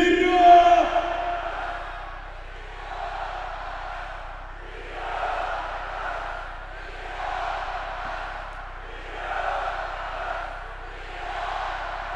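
A hockey arena crowd at an Ak Bars season presentation show chants a two-beat team cheer in unison, about five rhythmic swells repeating under a hall's echo, following a brief voice at the start.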